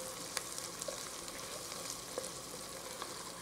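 Onions fry in a pan with a steady, close sizzle, dotted with small crackles and pops throughout; no one speaks.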